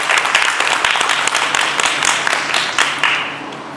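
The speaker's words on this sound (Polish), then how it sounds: "Wielkie brawa, drodzy Państwo." Audience applause at a Polish press conference for a perfume ambassador launch, a dense, steady patter of many hands clapping through the whole stretch with no talk over it.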